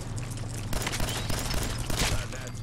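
Gunfire in Fallout 4 aimed at a shelled Mirelurk crab creature, a dense run of shots and impacts over a game soundtrack, with a player talking underneath.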